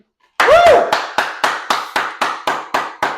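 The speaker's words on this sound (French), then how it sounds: "C'est temps d'applaudir," Audience clapping at a French comedy show, close and loud, coming as a slow, evenly spaced series of single sharp claps after a brief whoop-like tone at the start.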